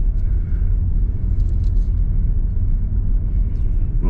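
A car drives past on a road in Lithuania near the Ignalina nuclear plant, producing a loud, steady low rumble that holds for about four seconds.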